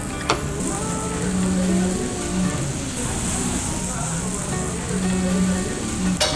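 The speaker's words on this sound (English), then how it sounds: "let's put the pork belly, really thick one" Thick slices of pork belly sizzle steadily on a Korean BBQ grill, a continuous bright crackle and hiss that holds throughout, with a voice talking over it.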